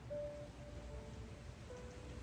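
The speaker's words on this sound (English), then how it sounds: "Of course, I'm lying here and it's starting to rain." Light rain begins falling outdoors, a soft, steady patter spread evenly across the scene, faint and continuous with no voices.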